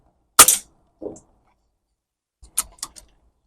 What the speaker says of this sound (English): I think what we'll do is shoot that one down again.